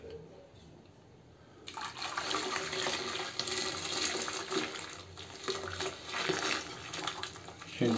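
Boiled water poured from a container into a toilet bowl, a steady close splashing gush that starts abruptly and runs continuously, with faint voice in the background.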